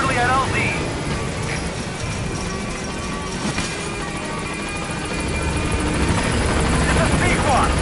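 Pequod, the support helicopter in Metal Gear Solid V, arrives at a landing zone with a steady, loud rotor roar that fills the whole stretch, while a radio voice talks over it.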